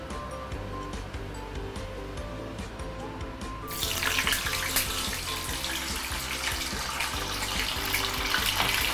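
Tofu slices deep frying in hot oil over medium heat, a sudden loud burst of crackling, hissing splatter that keeps going steadily after a quieter sizzle.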